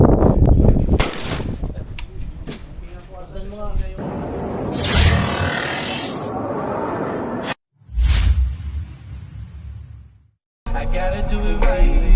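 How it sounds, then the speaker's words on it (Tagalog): A few loud gunshots crack out amid people talking at a firing range during weapon zeroing, each sharp blast followed by a brief ringing tail. "masasaksihan nyo yung aming pagsero sa aming baril"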